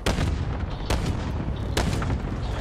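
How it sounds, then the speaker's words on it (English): Video game combat with heavy gunfire and explosions: three loud booming blasts at roughly even intervals, close and dense, filling the short stretch with low rumble. "They're still shooting at me"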